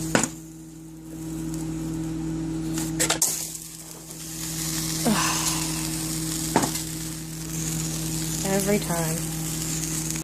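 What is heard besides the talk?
spinach and peas sizzling in pan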